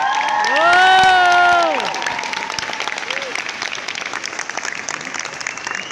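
An audience at a live Swedish show applauds steadily all the way through, while a voice shouts and sings out loudly over the clapping early on.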